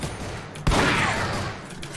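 A single loud blast from an AK rifle in a Roblox game hits sharply after a short quiet stretch, then rings out in a long hissing tail.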